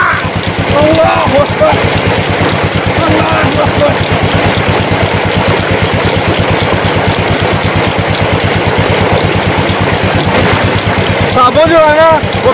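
A diesel engine running a water pump chugs steadily and loudly throughout with a fast, even mechanical knock, while splashing water from the pump outlet and a voice come through on top.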